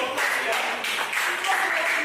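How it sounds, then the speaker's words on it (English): An audience at a conference breakout session gives a round of applause, a steady wash of moderate clapping with no talking over it. "Please, a round of applause."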